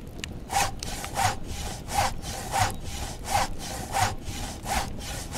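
Repeated back-and-forth strokes of a hand saw cutting wood to make an oar in the survival game The Last Plague: Blight, about eight steady rasping pulls, close and clear with no talk.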